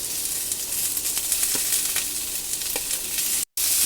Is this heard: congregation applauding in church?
no